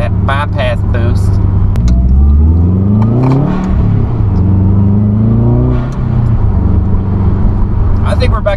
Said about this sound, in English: I like that blow off. I like that excess bypass, that bypass boost.